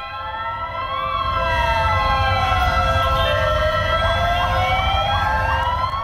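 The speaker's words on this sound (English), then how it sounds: "disconcerting to hear sirens and see the arrival of so many vehicles right outside our hotel in Tbilisi" Several ambulance sirens wail and overlap just outside a hotel in Tbilisi, loud and close, their tones sweeping up and down over a deep engine rumble.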